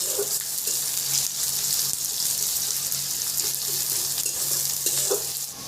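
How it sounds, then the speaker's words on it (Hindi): Sliced onions fry in oil in a pan for a leafy greens dish, a steady close sizzle with occasional stirring scrapes and clicks, continuous and without talk. "एखन मुई प्याज के दे देवी। आ भल कर इटा टिके लाल दिसबा तक भाजी देवी।"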